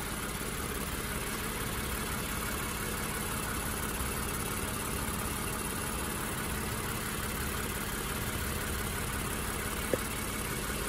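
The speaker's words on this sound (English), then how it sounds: "That's the engine." A 2017 Lexus RX350 idles quietly in a parking setting, a faint, steady engine hum with broadband background noise and one brief click near the end, no voices.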